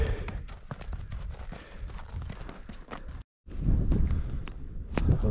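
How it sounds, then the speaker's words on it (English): Several horses walk on a hiking trail in Mongolia, their hooves clip-clopping in a steady, close, uneven patter, with a brief silent dropout partway through. "there's all the horses right there behind me"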